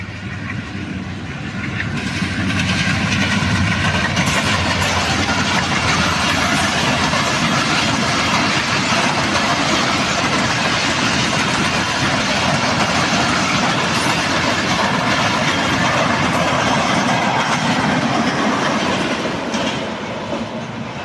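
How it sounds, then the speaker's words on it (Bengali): A train rolls past near the Hili border crossing between Bangladesh and India, a loud sustained rumble with rhythmic clickety-clack of wheels on rails and a faint squeal, heard up close for about twenty seconds without talk. "আমরা আসতে আসতে একটা ট্রেন চলে আসলো দেখুন।"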